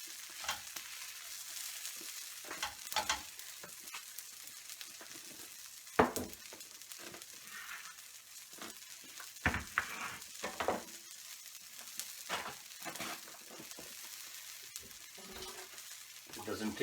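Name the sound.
besan cheela pancake frying and sizzling in pan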